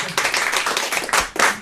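Television studio audience bursting into a short, dense round of applause, a close and loud wash of clapping that swells again near the end.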